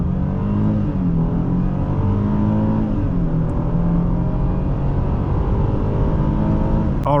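A 2013 Hyundai Genesis 3.8 sedan accelerates hard from a standstill through 60 mph, its engine note climbing steadily through the gears as a loud, continuous interior roar with no talk over it.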